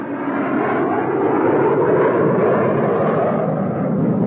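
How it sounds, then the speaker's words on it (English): Military aircraft roar in on an attack run during a 1963 joint Iranian and US Army exercise: a loud, steady, broadband engine rumble that stays close and sustained throughout, with no talk. "Forward air control guided the planes to their targets."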